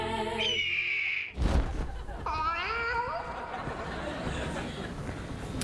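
A cat meows twice on a late-night television talk show, first a high drawn-out cry and then a wavering call, with studio chatter and voices around it.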